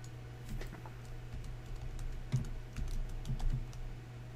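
Steady typing on a computer keyboard, close and moderately loud, with a continuous patter of key taps and a few heavier strokes near the end. Nobody speaks.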